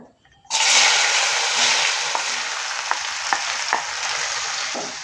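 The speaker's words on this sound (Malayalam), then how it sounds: "പാവയ്ക്ക ഇതുപോലെ നന്നായിട്ട് ഒന്ന് ഇളക്കി കൊടുക്കുക" Bitter gourd (pavakka) hits hot coconut oil in a pan with a sudden loud sizzle that then continues steadily, broken by a few light scraping taps of stirring.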